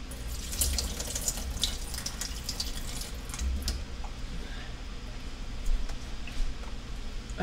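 Filtered water runs from a tap over nuts being washed in a sink, a steady hiss and splatter with occasional louder splashes, close by and without talk.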